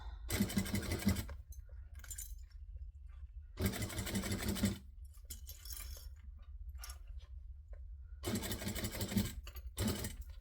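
A sewing machine stitches fabric in three short whirring bursts separated by pauses, heard up close over a quiet background with faint handling noises between the runs.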